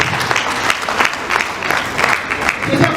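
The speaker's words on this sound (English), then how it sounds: "Let's clap for these women who are alive." An audience claps steadily through the whole stretch, a dense, even patter of many hands with light crowd noise mixed in and no break in the applause.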